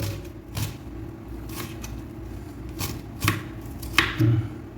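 Knife chopping raw chicken for kadai chicken in a restaurant kitchen: a steady run of sharp, close thuds and cuts on a board, with a louder cluster of chops near the end and no talk.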